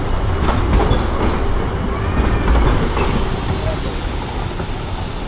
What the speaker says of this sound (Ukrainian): Ой, який гарний львівський трамвайчик їде.